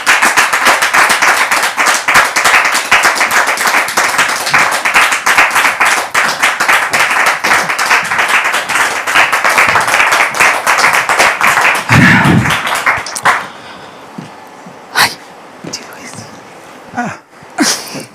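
A studio audience applauds loudly to welcome a married couple onto the stage, dense sustained clapping for about twelve seconds before it drops off abruptly to a few scattered claps and small sounds.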